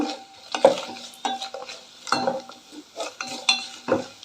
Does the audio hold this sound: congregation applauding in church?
no